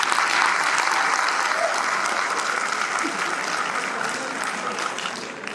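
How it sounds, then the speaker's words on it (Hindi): A crowd at a poetry recital at the Taj Mahotsav 2025 festival applauds steadily for several seconds, dense clapping at an even level that fades slightly toward the end. "तो एक बार तालियां बजाइए,"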